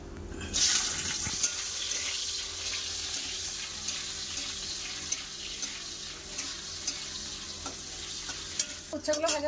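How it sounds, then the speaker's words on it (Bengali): Bitter gourd pieces fry in a pan of hot mustard oil, giving a continuous close sizzle with intermittent stirring scrapes and a louder clatter at the end. "উচ্ছেগুলো ভাজা হচ্ছে।"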